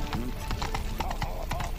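Roach, the horse in The Witcher 3, gallops with rapid rhythmic hoofbeats, steady and close, while someone speaks briefly over the clip-clop.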